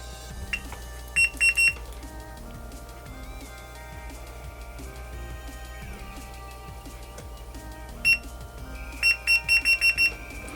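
A faulty multimeter gives bursts of electronic beeps during repair of a melted cord on a Kenwood power supply: a short cluster early, a single beep, then a rapid string of five near the end, over quiet tonal background hum.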